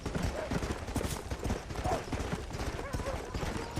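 Horse hooves clip-clop steadily in Red Dead Redemption, a fast, even gallop rhythm heard up close under game sounds and talking.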